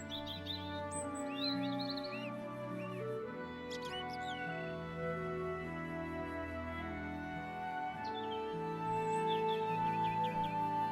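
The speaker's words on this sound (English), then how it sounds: "are the bird sounds fake too?" Small birds chirp in short, high twittering bursts under a continuous music bed, with a few chirps clustered early and more scattered later.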